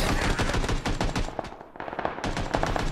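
Dense automatic gunfire in the battle royale game PUBG, a loud, continuous rattle of rapid shots with a short lull in the middle before the burst resumes, heard without any talk.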